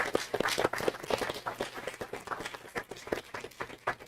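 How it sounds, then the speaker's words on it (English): A round of applause at a Waterloo Schools board meeting for a retiring assistant: a few minutes of scattered, uneven hand claps from a modest room of people, with a faint voice or two underneath. "let's give Pam a round of applause there"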